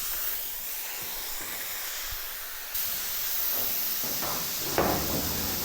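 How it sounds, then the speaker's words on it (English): Compressed air hissing out of the end of an air tool used in spray-painting work, a steady broadband hiss that jumps louder partway through, with a few faint knocks and clicks and no voices. "I've got air leaking out the end"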